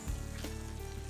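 Mushroom risotto rice being stirred in a pan, a soft, close sizzle and bubbling with a light scrape of the spoon, quiet and brief.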